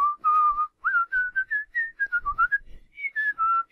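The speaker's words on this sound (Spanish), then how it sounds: "a mí me hizo muy útil el poder aprender a silbar con los dedos" Loud, clear whistling made with the fingers, a series of short and held tones that rise and fall in pitch with brief gaps between them.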